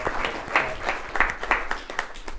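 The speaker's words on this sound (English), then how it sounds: "Give him a round of applause." Audience applauds to welcome a speaker at a youth strength-training talk, modest, loose clapping from a small group in a room, with individual claps distinct and fairly close.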